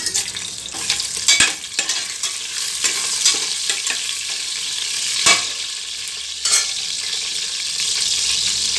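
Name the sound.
whole spices frying in hot oil in a cooker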